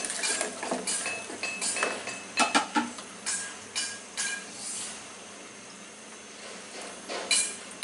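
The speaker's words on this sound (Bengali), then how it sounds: "একটু দিয়ে মিশায় মিশায় দেখি ব্যাটারটা আমার যখন পছন্দ মতো ঘন হবে।" Oreo frying batter being mixed with milk in a bowl gives off repeated light clinks and scraping taps of a utensil against the bowl, irregular and close, with no voices.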